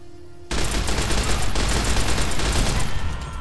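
Machine gun fire in Fallout: New Vegas, Honest Hearts add-on, kicking in abruptly after a quiet moment and continuing as a loud, steady, rapid stream of close shots for about three seconds.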